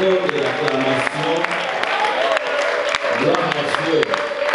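Church congregation clapping and applauding together during a worship service, a dense, steady wash of hands filling the room, with voices mixed in.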